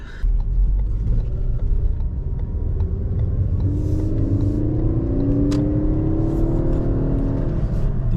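A car engine running steadily while driving after a suspected coil pack problem, a loud low rumble with whirring and mechanical creaks, rising slightly in pitch midway as the engine pulls, heard from inside the car.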